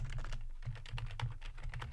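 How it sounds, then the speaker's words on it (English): Fingers type on a computer keyboard in a quick, even patter of soft close key taps, heard alone for a couple of seconds. "I could type in leadership"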